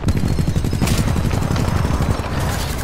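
Rocket salvo fired in Titanfall 2, a dense continuous barrage of rapid launches and blasts, loud and close, with one sharper burst near the start and no talking.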